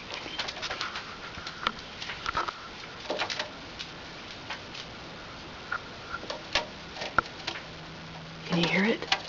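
A bird scratching and scrabbling inside a wall or ceiling, heard as faint scattered ticks and scrapes in short irregular bursts, with a louder flurry near the end and soft cooing, recorded close in a quiet room.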